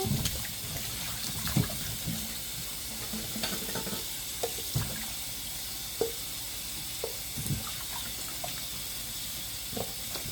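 Tap water runs steadily into a sink as cooking ingredients for a chicken and rice dinner are rinsed, a soft continuous hiss with faint splashes and light handling knocks close by.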